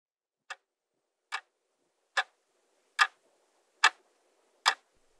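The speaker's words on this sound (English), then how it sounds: "Tick tock, tick tock. Captain Hook hears the alarm clock." An alarm clock inside a crocodile ticks six times at an even, slightly quickening pace, each tick a crisp, isolated click in near silence.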